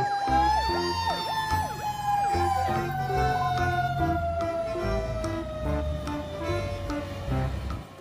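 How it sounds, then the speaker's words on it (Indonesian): A loud fire truck siren wails with a long falling tone over an idling engine rumble, close and continuous throughout. "Mobil truk pemadam kebakaran."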